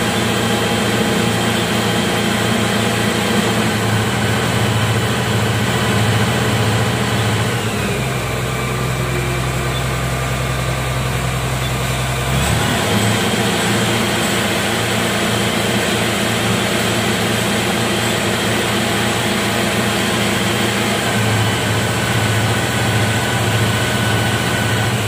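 A Komatsu PC1250-8 excavator's diesel engine runs steadily at idle during troubleshooting of the auto decelerator, a continuous low hum that dips in speed for several seconds before returning.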